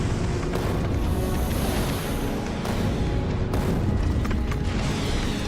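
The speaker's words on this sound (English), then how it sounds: "Unleash the rocket turrets." Rocket turrets in Factorio fire and explode in a dense, continuous roar of blasts and rumbling booms, loud and sustained throughout with a few sharper bursts, no voices.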